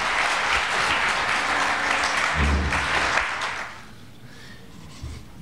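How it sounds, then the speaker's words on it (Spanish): An audience at an academic talk claps together in a loud, sustained round of applause that tapers off after about four seconds into a quiet room. "Vamos a brindarles un aplauso, por favor, por esta charla."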